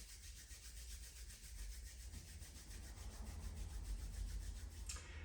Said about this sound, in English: give the hands a bit of a rub